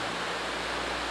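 A waterfall in Australia pours in a steady, dense broadband rush, close and continuous with no voices.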